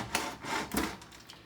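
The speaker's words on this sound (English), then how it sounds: "and then sawing back and forth" Wire sawing back and forth through a vehicle window seal while installing a gullwing window into a Suzuki, heard as close rasping strokes with an uneven rhythm of about three pulls.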